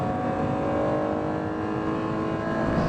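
A first-generation Acura NSX engine revs above 6,000 RPM with VTEC engaged, a sustained, loud, even howl that holds steady throughout, with no talking.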